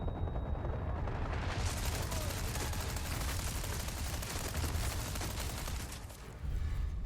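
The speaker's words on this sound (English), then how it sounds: "Let me get a flashbang going." Flashbang grenade and gunfire in a shooter video game, a dense, loud, sustained burst of blasts and crackling that briefly dips near the end before resuming, with no voices over it.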